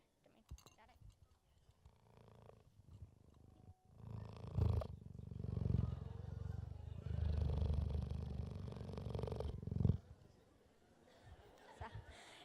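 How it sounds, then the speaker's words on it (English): A cheetah purrs as a soft, low, continuous rumble that swells in the middle, faint and close, with quiet voices around it. "you probably can't hear her right now, but she is purring"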